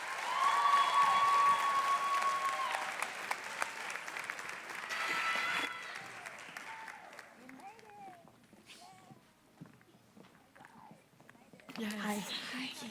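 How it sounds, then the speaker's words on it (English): An audience at a business incubator pitch night bursts into loud, sustained applause welcoming a pitch team, lasting about five seconds before thinning out as voices take over. "give them a huge round of applause as they make their way"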